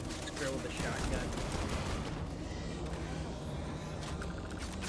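Shotgun and weapon fire rattle in the video game Starfield, dense overlapping bursts of gunfire sounding close and continuous throughout, mixed with game effects and a voice talking over the action.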